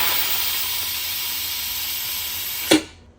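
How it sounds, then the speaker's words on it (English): Steam vents from the lid of a Buffalo pressure cooker in a loud, steady, close hiss that holds evenly, then cuts off abruptly after a brief burst as the valve closes. "So all the pressure of the steam comes out on top."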